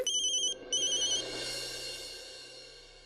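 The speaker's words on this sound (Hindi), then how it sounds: "वैसे देखना किसका फोन है।" A mobile phone ringtone plays nearby in an indoor TV drama scene. A bright electronic melody sounds in two short bursts, then fades into a soft, lingering tone.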